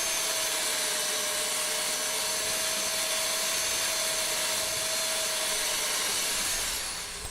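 A handheld drill with a hole cutter bores a circular hole through wood, a loud steady whirring grind that holds for several seconds, then eases off at the end.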